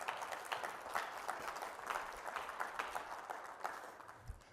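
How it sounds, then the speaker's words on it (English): A roomful of people at a public/private partnership event applauds steadily and evenly, a dense wash of many hands clapping at moderate distance without a break, with no voices standing out above it. "So the first thing I'd like to do is give a round of applause"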